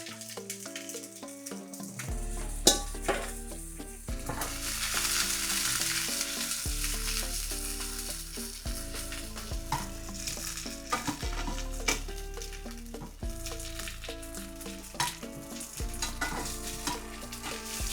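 Vegetables hit a hot, lightly smoking oiled pan and sizzle loudly, with repeated stirring and scraping as they are tossed through the oil, the frying hiss rising and falling throughout.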